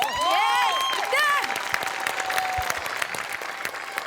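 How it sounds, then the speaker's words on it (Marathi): A studio audience applauds loudly and steadily at a Marathi comedy sketch show, the clapping sustained throughout with voices and whoops rising over it near the start. "आणि तेवढ्याच टाळ्या तुमच्या सगळ्यांसाठी आणि पुन्हा एकदा गोस्वामींसाठी पण"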